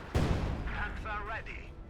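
Field artillery bombardment in Company of Heroes 2: one heavy boom followed by rumbling impacts, with a voice talking over it.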